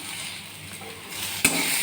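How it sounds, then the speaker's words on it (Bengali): Onions sizzle steadily in a pan of oil, a close, even frying hiss with a sharp clink of a utensil against the pan near the end. "এই যে পেঁয়াজটাকে একটু একটু বেশ ভাজা ভাজা মতন হবে"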